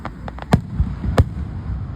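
Fireworks bursting at the side of a road, a few sharp pops and cracks in quick succession, moderately close and with no talk over them.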